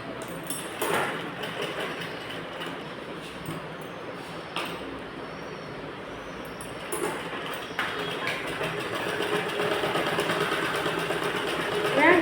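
A sewing machine stitches a net fabric blouse in a soft, steady close rattle, with a few clicks and knocks between runs.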